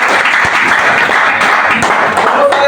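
An audience at a network marketing meeting breaks into steady applause, a dense wash of many hands clapping that carries on loudly throughout, with voices faintly mixed in.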